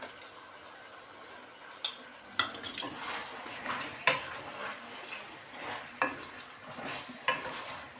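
Beef frying in a pan with dry masala and coriander as it is stirred: a steady soft sizzle broken by sharp metallic scrapes and clinks of the spoon against the pan, fairly faint and with no talk.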